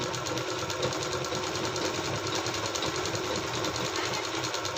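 A sewing machine runs steadily, stitching along a folded hem of waste fabric for a machine cover, its motor whirring in a continuous close rattle without pause and no voices over it.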